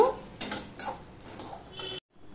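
Fried rice is scooped from a pan into a bowl, giving a few close scrapes and clinks of a metal spoon on cookware and a rustle of grains, then a short pause.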